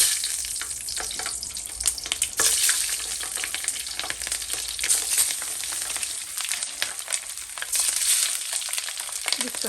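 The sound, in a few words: frying peppers in hot oil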